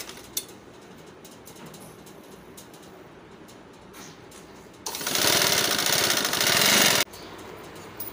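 A sewing machine runs in one steady, loud burst of about two seconds, stitching a half-inch folded hem on a small boy's kurta, with quieter room sounds before and after.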